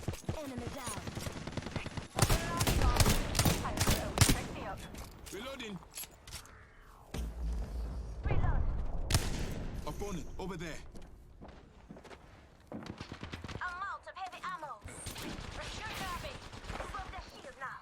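Gunfire in Apex Legends: repeated bursts of rapid, loud automatic shots with pauses between volleys, mixed with footsteps, thuds and game effects, while voices talk at intervals.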